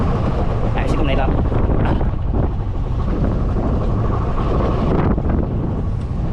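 Gusty wind batters a small fishing boat out on rough sea, a loud continuous rushing roar with buffeting on the microphone while people talk over it.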